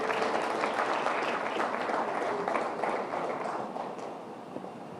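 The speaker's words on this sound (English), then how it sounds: "Please give him a round of applause." Sustained applause from a conference audience at the India Today Conclave honoring AI art director Nilanjan Das, dense and steady throughout, easing slightly toward the end.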